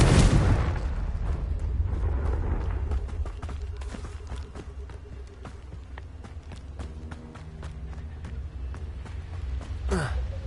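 A Confringo explosive spell from Hogwarts Legacy erupts in a loud, close blast at the start, followed by scattered crackling impacts and running footsteps, with another sharp whooshing burst near the end.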